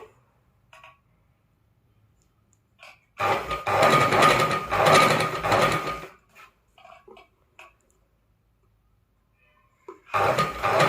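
A sewing machine stitches thread piping around a square neckline in two loud, steady bursts, one lasting about three seconds and a second starting near the end, separated by quiet with faint handling clicks.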